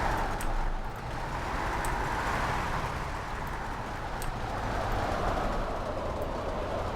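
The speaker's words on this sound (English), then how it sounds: "This is the Capital Ecoboost train." A Capital Ecoboost metro train runs in the city-building game Cities in Motion 2, giving a continuous rumbling rail roll with faint clicks for several seconds, steady and fairly loud with no talk over it.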